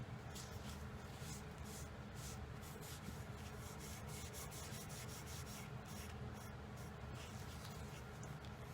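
Wipe-on oil polyurethane is rubbed by hand onto a crafted piece, a soft, quiet, repeated rubbing and swishing close up with no speech.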